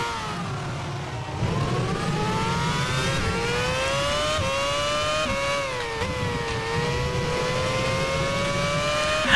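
A race car engine in F1 Challenge 99-02 during a 2007 championship race, a loud continuous high-pitched whine that climbs and dips through gear changes and throttle shifts, close and sustained with no talking.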